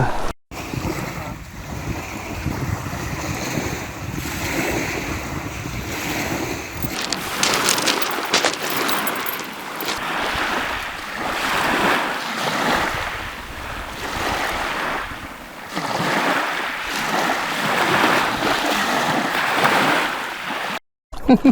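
Loud surging wash of sea waves and wind buffeting the microphone as a small boat moves through the water off Lobo, Batangas, with roaring swells rising and falling throughout.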